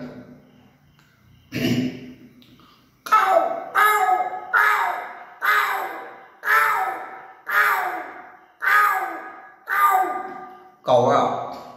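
A voice imitates a crow's caw with about nine loud, harsh, evenly spaced calls following one earlier cry, close and clear with no other sound in between.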